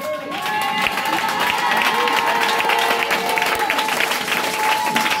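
A church congregation breaks into loud, sustained applause acclaiming the word of God, dense clapping from a large crowd that fills the room continuously.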